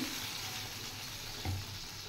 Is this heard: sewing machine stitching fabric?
no